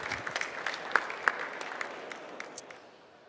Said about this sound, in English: Big applause, Joe, ladies and gentlemen.